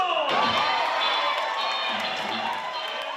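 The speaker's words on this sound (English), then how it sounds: "Let's have a nice warm round of applause for the fabulous Beautiful" A crowd at a community event cheers and whoops for the Beautiful Boys line dance group, a lively mix of clapping and shouts at a steady, moderately loud level.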